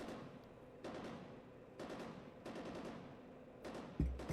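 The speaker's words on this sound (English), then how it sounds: "There's gunfire around you." A gunfire sound effect plays during a tabletop role-playing game session, with faint bursts of rapid shots about every second, like a distant firefight in the background.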